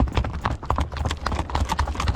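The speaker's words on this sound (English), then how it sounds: "Icelandic horses have a special gait called a tilt, which is a type of trot that no other horse in the world can do" Hooves of an Icelandic horse beat out a quick, even tölt, a brisk run of close, crisp clip-clops with steady rhythm and no voices.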